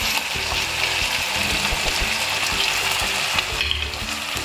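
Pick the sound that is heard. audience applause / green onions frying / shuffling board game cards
green onions frying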